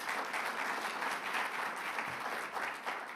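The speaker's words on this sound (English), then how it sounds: "So let's give him a round of applause." At a U.S. Climate Alliance event during Climate Week NYC 2022, a roomful of people applauds, a full, steady rush of clapping that holds at an even level throughout.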